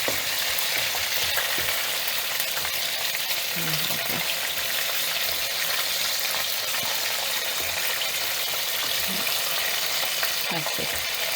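KFC-style chicken drumsticks fry in hot oil, giving a loud, steady, close sizzle that never lets up, with faint speech underneath.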